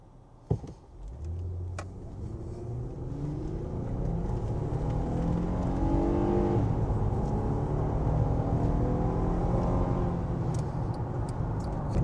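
A 2009–2015 Honda Pilot V6 SUV engine builds steadily as it accelerates onto a highway, with a rising whir and road rumble growing louder and holding at a strong, continuous level, with some vibration.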